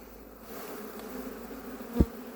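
Honey bees buzz around an open beehive during hive inspection, a close, steady, low hum with one sharp knock near the end.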